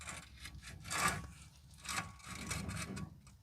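On a GMC 3500HD pickup, a rear brake rotor is pried off past the emergency brake drum, producing close, uneven scraping and grinding metal rubs in a few short bursts, fairly quiet with no talk.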